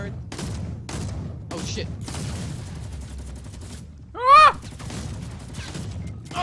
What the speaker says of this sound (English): I'm firing.